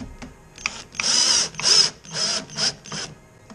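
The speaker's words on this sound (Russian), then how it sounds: "просверлил отверстие и фиксирую теперь эту рамку крыши будущей" A power drill whirs in several short close bursts, driving fasteners to fix the roof frame of a wooden bee swarm trap, with clicks and handling noise between bursts.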